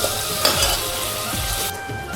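Onion and tomato frying for prawn biryani, a loud, steady sizzle with bursts of spattering and a few scraping stirs of a utensil in the pan, and no talking.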